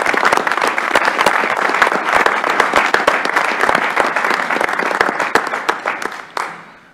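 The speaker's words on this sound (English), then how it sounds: "let's give our presenter a round of applause" Audience at a university board of regents meeting giving a presenter a round of applause, dense close clapping for about six seconds that fades out at the end.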